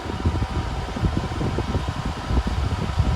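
A Dyson Hot+Cool formaldehyde air purifier fan runs steadily indoors, giving an even, close airy whoosh with a low rumble that holds at a constant level for the whole stretch, with no talking.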